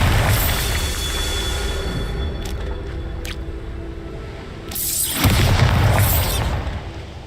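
A Bombarda blast spell in Hogwarts Legacy: a sustained rumbling background breaks into a loud, deep explosive boom near the end, preceded by a couple of brief sharp cracks, heard alone without talk.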